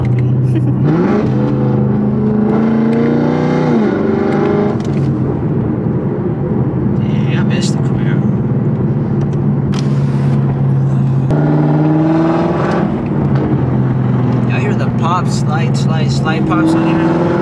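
Chevrolet Camaro engine burning E85 fuel after its first cold start of spring, a steady loud drone with revs rising and falling while driving at the speed limit, with a voice talking over it.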